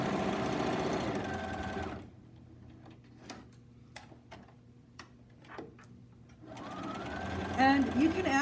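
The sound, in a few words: sewing machine stitching fabric with thread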